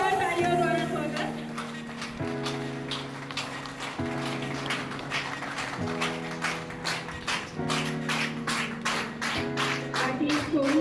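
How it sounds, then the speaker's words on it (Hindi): An audience at a public welcome event claps in steady rhythmic waves for a guest, the applause running throughout over repeating background music, with an announcer's voice heard at times. "जोरदार तालियों द्वारा स्वागत।"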